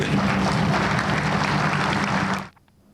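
Audience applause at a project event in Pakistan, a dense wash of clapping that holds steady, then cuts off abruptly near the end, leaving near silence.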